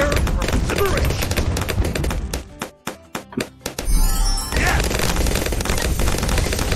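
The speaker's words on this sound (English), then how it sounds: "Oh, whose machine gun is that?" Rapid machine gun fire from the Bloons TD 6 game, a dense rattling burst that drops into a few separate shots before a fresh volley, loud and near and layered with other game sounds.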